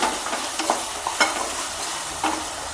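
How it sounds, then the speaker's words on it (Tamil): A steady sizzle of vegetables frying in a pan, with a few soft scrapes and knocks of stirring, close by. "இதை சேர்த்து கொஞ்சம் ஒரு கிண்டலாம்."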